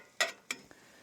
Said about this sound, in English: I'm trying not to scrape the pan because I'm sure it's very loud for you guys